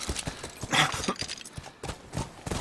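Horse hooves in The Last of Us, a steady clip-clop of galloping beats with a brief mid-clip swell, fairly close and loud, with no talk over them.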